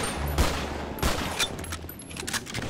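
Gunfire in a Counter-Strike match on the de_dust map, recreated inside GTA 5 roleplay: a few sharp, moderately close shots spaced out over steady game background noise.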